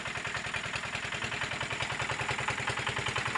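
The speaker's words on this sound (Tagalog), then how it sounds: "Guys, compressor," An air compressor runs nearby, used on a farm to blow air, with a steady, fast mechanical chugging pulse that holds at an even level throughout and has no voices over it.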